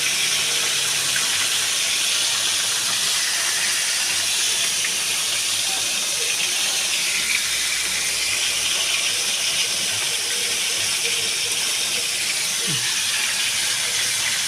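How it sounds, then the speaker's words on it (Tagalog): Fish fries in hot oil with a constant loud sizzling hiss, close and unbroken throughout. "Prito po tayo ng isda."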